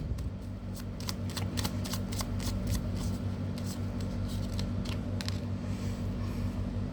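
Tarot cards being shuffled by hand, a rapid run of crisp riffling flicks over a steady low electrical hum, close and continuous with no talk.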